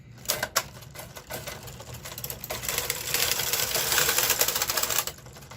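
A knitting machine carriage is pushed back across a row of stitches with a punch card engaged, giving a continuous mechanical clattering rattle that grows louder and denser midway before stopping, with no talking.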